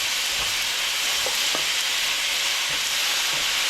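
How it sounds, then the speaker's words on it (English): Kohlrabi and pork stir-frying in a wok: a steady, loud broadband sizzle throughout, with a few faint scraping stirs of the mixing utensil, no voices. "Mix all ingredients together, and then put the pork back in."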